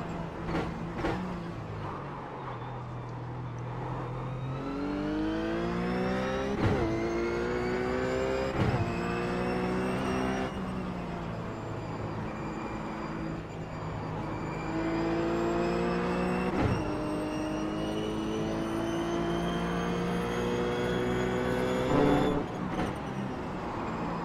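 A RUF race car engine in iRacing at Sonoma Raceway drones loudly and close throughout, rising through gears in repeated revving sweeps with short drops at each shift and lift.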